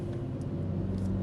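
A loud truck on a busy highway gives a low, steady engine rumble close by, droning without a break over a short stretch with no talk.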